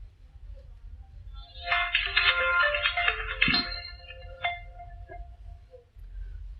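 An Xmobile X4 Plus keypad phone plays its startup tone when switched on: a bright, short electronic melody of several quick notes lasting about two seconds, then a couple of soft beeps, heard close up over low background hum.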